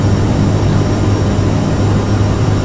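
Steady loud roar and low drone of a CRJ700's jet engines during climb, heard from the cockpit as a continuous hum without speech.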